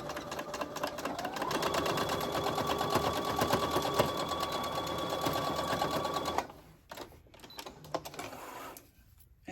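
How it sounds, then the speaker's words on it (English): A sewing machine stitches waistbands together, running in a steady, fast mechanical chatter for about six seconds before stopping, followed by a few quieter clicks and handling sounds, close by with no talking. "So now I'm going to sew the waistbands together"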